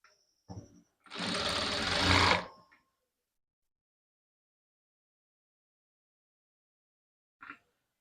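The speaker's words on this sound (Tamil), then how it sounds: "கரெக்டாக இப்படி இருக்கிற மாதிரி எடுத்து வச்சுட்டு கொஞ்சம் தூரம் ஸ்டிச் வந்து போடுங்க." A sewing machine stitching the collar of a co-ord set: one close burst of rapid motor-driven stitching lasting just over a second, with short clicks before and after, then near silence until a brief tap near the end.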